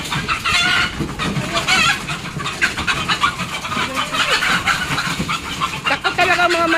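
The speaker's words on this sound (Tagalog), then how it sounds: "Takot yung mga manok sa'yo." Chickens cluck and call busily at close range on a farm, with a few higher squawks breaking through a steady, dense flock noise and no talk.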